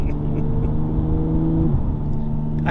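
A BMW M2 Competition cruising at steady speed gives a continuous, close engine drone that holds an even pitch, then dips slightly lower near the end.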